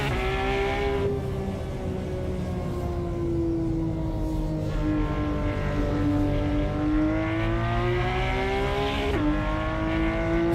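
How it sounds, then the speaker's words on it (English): A race car in Assetto Corsa holds a continuous exhaust note with a deep tone, wavering in pitch as it dips and climbs through corners. A quick shift or blip comes near the end, and the engine stays steady and unaccompanied throughout. "But so far the exhaust is nice."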